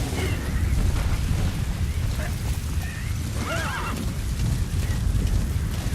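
A horse whinnies once in the middle of a Metal Gear Solid V: The Phantom Pain game, over constant rain-like noise and low rumbling, with hooves clopping faintly underneath.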